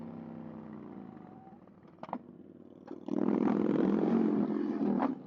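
An Indian motorcycle engine cruising low, then a couple of sharp mechanical clunks as it shifts into second gear, followed by a loud surge of throttle and engine roar, close and fairly strong.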